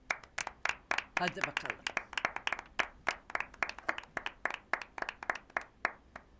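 People clap in steady, rhythmic unison at a family birthday gathering in a home, sharp hand claps repeating close by, with a voice speaking briefly during the clapping.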